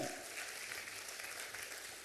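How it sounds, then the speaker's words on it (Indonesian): Church congregation applauding during a sermon, a steady wash of clapping that stays even from start to finish. "Berikan tepuk tangan buat Tuhan"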